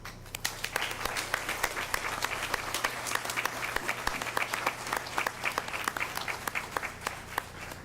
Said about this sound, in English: this is the one time we can have a little applause before everyone is introduced, in saluting our valedictorians and salutatorians for the class of 2018